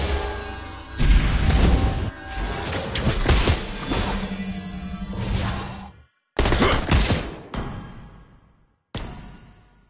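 Clint firing bullets in a video game, with a loud barrage of rapid shots and crashing impacts that cuts out abruptly, then two more short bursts after brief silences.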